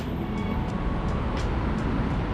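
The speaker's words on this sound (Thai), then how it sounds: "เห็นรถไฟฟ้ากำลังเข้าสถานีตลาดบางใหญ่อยู่นะครับ" Steady rumbling train noise with a constant low roar, an elevated metro train entering Talad Bang Yai station in Bangkok, rolling close by with faint hissing accents.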